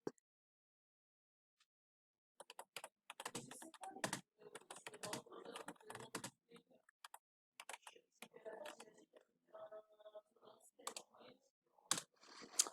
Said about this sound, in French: je suis en train de taper